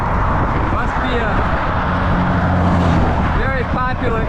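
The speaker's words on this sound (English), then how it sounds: "This is what Highway 22 is like. Great shoulder, rumble strips, but it's noisier than you know what. Lots of cars." Steady roar of traffic on Highway 22 heard from a bicycle on the shoulder, loud and continuous tire and engine noise from passing cars, with wind buffeting throughout.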